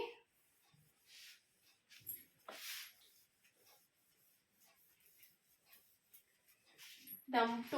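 Pen or pencil writing on paper during a maths lesson, a series of short scratchy strokes close by and fairly faint, separated by pauses.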